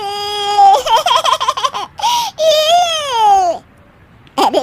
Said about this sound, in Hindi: अरे बेटा, ये बच्चे के रोने की आवाज़ कहाँ से आ रही है?